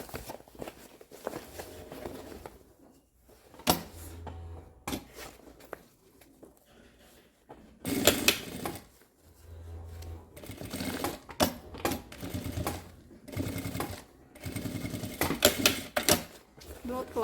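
Sewing machine running a straight seam on a laptop bag, with rapid mechanical stitching bursts that stop and start over many seconds and someone talking between and over the runs.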